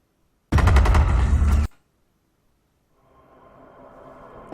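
Gunfire from the Windows Store sniper shooting game Sniper Fury, a loud burst of rapid shots lasting about a second and cutting off abruptly, followed by a faint, low hum of game ambience.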